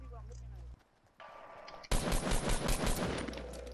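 Gunshots in Fortnite arrive after a brief quieter moment, erupting into a loud, rapid string of sharp shots that continues to the end, with faint game ambience before them.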